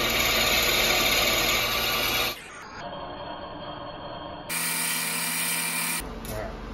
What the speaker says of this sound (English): We're gonna drill down 8 inches into this thing and take a bunch of weight off